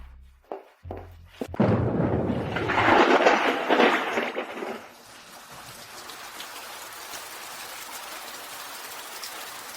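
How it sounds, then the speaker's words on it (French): After a few thumps, a burst of rain hisses loudly for a few seconds, then settles into a softer, steady patter. "Il pleut vraiment."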